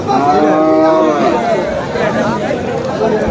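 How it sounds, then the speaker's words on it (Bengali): Cattle moo loudly and close amid dense crowd babble at a large Eid sacrificial cattle market held on a school field in Konra, with voices talking nearby. "বিভিন্ন সাইজের গরু আছে, ছোট বড় মাঝারি।"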